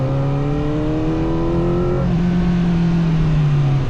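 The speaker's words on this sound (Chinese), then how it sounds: "在8、9千转以前，转速起来的其实是比较慢的啊" A CFmoto 500SR motorcycle engine revs loudly and close for about two seconds, its pitch climbing steadily before it drops back to a lower, steady drone.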